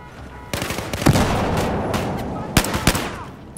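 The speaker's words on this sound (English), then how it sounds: "I can't see what I'm shooting." Gunfire in the shooter game Battlefield 4: sharp, loud shots crack out irregularly, with several bursts and single reports over a dense battle din.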